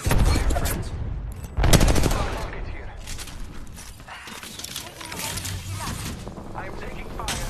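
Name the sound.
gunfire in the video game Apex Legends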